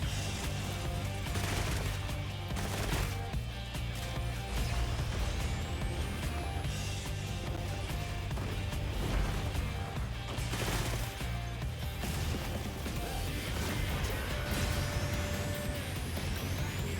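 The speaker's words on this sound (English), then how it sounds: "Oh, it's the cannon." Heavy cannon fire booms in the video game Monster Hunter Wilds amid a dense, continuous barrage of blasts and crashes, loud and close, layered over a sustained low rumble with no pauses.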